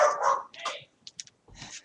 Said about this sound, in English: can you hear Sam barking